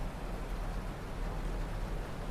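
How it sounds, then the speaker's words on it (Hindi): Dense, steady hiss of heavy rain falling continuously, broadband and unbroken, with no voices. "ज़बरदस्त बारिश हो रही है 2 बजे से।"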